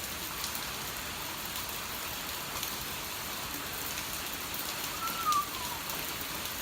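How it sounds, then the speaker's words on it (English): Steady rain falling in Moscow in a continuous, even hiss, with a faint passing engine in the background and no talking. "The rain is too much."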